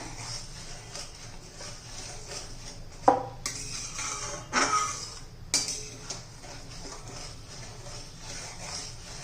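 A coconut sweet mixture stirred in a pan: soft repeated scraping under a quiet hum, with a few sharper metallic clinks of spoon against the pan, no talk.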